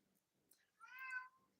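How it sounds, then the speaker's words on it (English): Simba the cat gives a single short, clear meow, faint and close, with a quiet room otherwise nearly silent. "You hear the cat."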